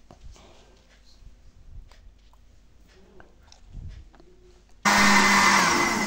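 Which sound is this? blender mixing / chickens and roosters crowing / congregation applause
blender mixing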